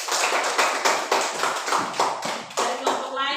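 Classroom applause at a school for a student group, a short burst of rhythmic clapping in quick, even beats with voices mixed in.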